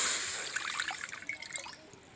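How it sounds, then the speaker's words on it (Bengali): Water is poured into a wok (karahi), a soft close trickle and dribble that fades over two seconds. "পোড়া পিঠেটা করার জন্য কড়াতে আমি প্রথম জল দিয়ে দিচ্ছি।"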